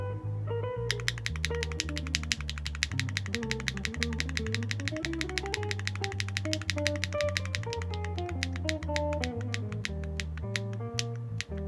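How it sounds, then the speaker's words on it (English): Rapid, crisp keystrokes on a keyboard with Keygeek Higanbana linear switches mounted on a carbon fiber plate, a fast clacky stream of typing over quiet background music. "let's go ahead and test the single keystroke"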